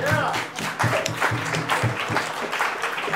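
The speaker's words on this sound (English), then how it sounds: "Give a round of applause to Ms. Keiko." Audience applause at a blockchain event, a fairly loud burst of clapping with some voices and cheering mixed in, steady for about three seconds.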